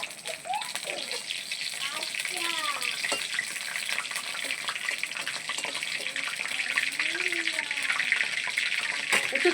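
Bay leaves, dried red chillies and cumin seeds sizzle steadily in hot oil for a Bengali ghugni, a continuous bright crackle with occasional sharper pops, close and fairly loud throughout.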